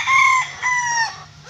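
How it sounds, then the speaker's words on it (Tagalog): White Leghorn chickens on a breeding farm give two loud, close crowing calls with clucking in between, each call a drawn-out, ringing cry, with no voices. "Itong dalawang puting manok,"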